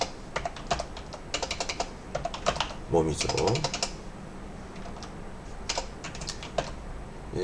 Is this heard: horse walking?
no